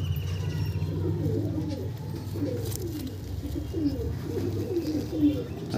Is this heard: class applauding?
no